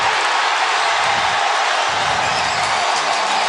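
Stadium crowd in Cincinnati roaring after a game-winning Bengals field goal by rookie kicker Evan McPherson, a loud, dense, sustained wash of cheering and applause filling the whole stretch without a break.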